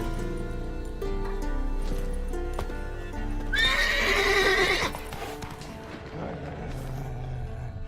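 A horse named Scorpion in The Witcher 3 gives a loud, shrill whinny midway, with hoofbeats clip-clopping and a steady game soundtrack running underneath throughout.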